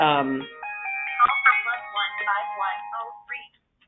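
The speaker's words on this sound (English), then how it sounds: "sorry, my phone rang." A mobile phone ringtone plays a bright, tinkling electronic melody of rapid repeated notes, clear and close, ending abruptly, with a brief voice at the start.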